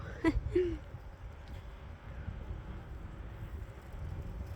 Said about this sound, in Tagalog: Humahangin pa.